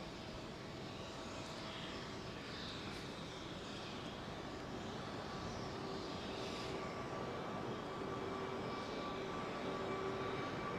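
A British Airways A380 jet climbs out overhead after departure from Heathrow runway 09R, a broad, continuous roar of engines that stays fairly distant and constant throughout.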